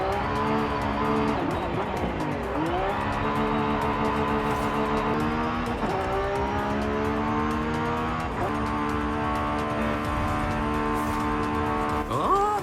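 A Lamborghini Revuelto races down a highway in Forza Horizon 5, its engine howling steadily through repeated rising gear pulls with brief shift dips, loud and close, with no talking.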